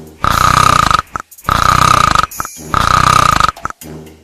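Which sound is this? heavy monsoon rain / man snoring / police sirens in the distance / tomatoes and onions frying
man snoring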